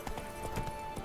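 Horse hooves clop in a quick, even rhythm as a mount gallops in the video game Witcher 3, soft and fairly faint over a steady background hum.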